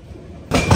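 Another train rushes past on the railway near Visakhapatnam, heard from aboard a moving train: a sudden loud, close roar of wheels and air bursts in halfway through after a low rumble.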